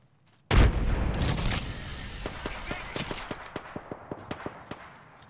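A frag grenade goes off in Apex Legends with a sudden loud boom, followed by a rolling rumble and a rapid string of distant gunshots or sharp cracks.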